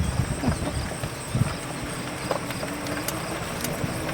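Hooves of a Pintaloosa horse clip-clopping at a walk on a country property, a steady uneven patter of light hoofbeats under constant background noise, no talk.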